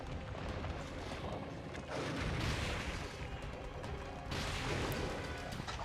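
Heavy bowgun firing in Monster Hunter 4, dense rapid booming shots and impacts in bursts, loud and continuous with harsh crashing bangs.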